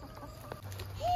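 Chickens clucking softly at close range, a few short low calls rising into a brief higher squawk near the end, with no talk over them.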